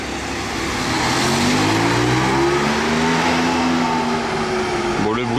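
A Mercedes-AMG One hypercar drives past on a Monaco street, its engine note loud and continuous with a rising and falling pitch, heavy street and crowd noise around it, and people talking nearby.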